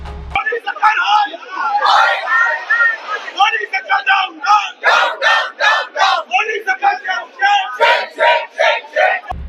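Opposition MPs protest outside parliament, a crowd shouting slogans in loud rhythmic bursts of chanting and yelling that fill the whole stretch.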